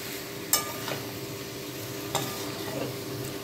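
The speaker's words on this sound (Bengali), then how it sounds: "সয়াবিন সেদ্ধ এবং ভেজে রাখা আলু ভালো করে এরকম মিক্সড করে নেব।" Boiled soybeans and fried potatoes are stirred into a gravy in a pan over a low flame, giving a soft steady sizzle broken by a few sharp scrapes and taps of the spoon, with no voices.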